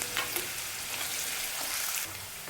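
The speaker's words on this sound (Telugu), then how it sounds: "ఇది బాగా వేగాలి ఇది కొంచెం వేగిన తర్వాత ఆవాలు మెంతులు కూడా వేసుకుందాం" Mustard seeds and fenugreek seeds fry in hot oil for an Andhra buttermilk curry, giving a continuous, even hiss with a few faint crackles, close but moderate in level.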